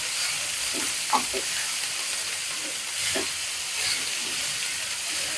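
Shallots and onions fry in oil while being stirred, a steady close sizzle with light scraping strokes of the spoon, no talk.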